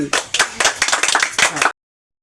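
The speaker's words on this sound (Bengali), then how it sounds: "আমাদের সাবেক এমপি আছে, সেই এমপির জন্য সকলে করে একটা হাততালি" A small crowd claps for a former MP at a comic village gathering, a quick burst of hand claps just under two seconds long that stops abruptly, with a voice mixed into the start.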